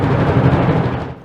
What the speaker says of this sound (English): I had no idea that one could produce sounds like this on bass drum.